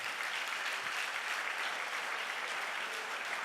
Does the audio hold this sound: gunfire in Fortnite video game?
no